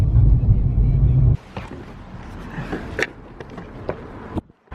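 A car drives off through the streets of Leith in Edinburgh, its low engine rumble loud at first, then settling into a steadier road hum with scattered clicks and knocks from inside the cabin.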